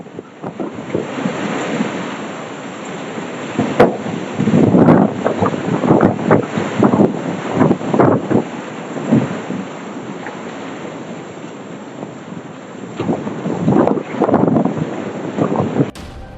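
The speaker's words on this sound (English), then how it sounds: "A fierce whirlwind blew the lid off a hot water tank in Kentucky, leaving the residents terrified." A fierce whirlwind in Kentucky blows the lid off a hot water tank. Loud gusts roar and buffet the microphone in repeated surging bursts, broken by a few sharp knocks and one quieter lull.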